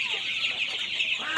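Farm chickens cluck and chatter in a poultry shed, a continuous close flurry of short calls with a few sharper squawks near the end, and no talking.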